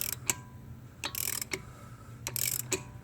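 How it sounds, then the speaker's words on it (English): A hand ratchet works a bolt loose on the driver's side CV axle of a Chevy Cruze, giving several quick bursts of close, crisp clicking separated by short pauses, with no voice over it. "I should be able just to get it with my ratchet here."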